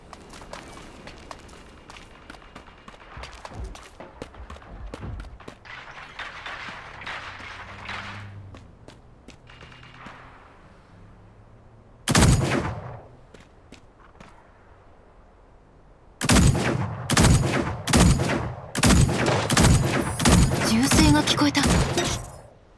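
Gunfire in the battle royale video game Super Mecha Champions: a quieter stretch of footsteps and thuds, then a sharp loud burst of shots, a pause, and a rapid volley of close, loud shots near the end.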